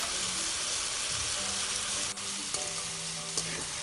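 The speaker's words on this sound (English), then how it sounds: "To this I am adding in some tomato sauce. This is a spicy tomato sauce." Spicy tomato sauce added to frying potatoes sizzles in a pan with a continuous bright hiss, broken by a couple of clicks and scrapes from stirring.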